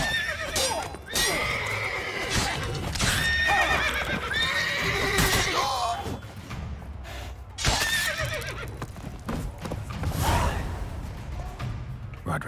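Horses in The Witcher 3 video game whinny and snort loudly amid shuffling hooves and whooshing movement, with several sharp neighs in quick succession and a brief voice-like gasp mixed in.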